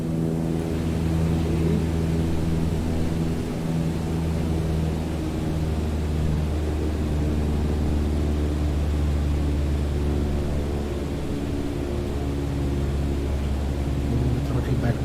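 A propeller airplane engine in Microsoft Flight Simulator drones steadily at around 1,800 RPM cruise power, loud, continuous and even, with a strong low harmonic hum.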